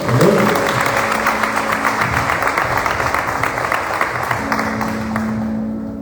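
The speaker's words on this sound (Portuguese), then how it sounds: "Você pode aplaudir o Senhor?" A church congregation applauds together, a dense, steady wave of clapping that holds for several seconds before tapering off at the end.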